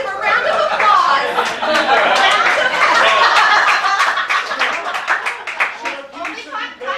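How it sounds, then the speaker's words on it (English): A room of people claps in a round of applause, brisk overlapping hand claps mixed with chatter and chuckling, fairly close and loud, thinning out toward the end. "Let's give a round of applause."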